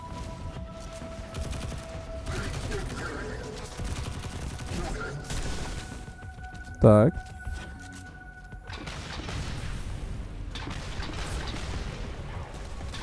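Weapons fire in the video game Destiny 2 comes as a short, loud burst of rapid shots midway through. Quieter game ambience runs around it, and someone speaks a single word.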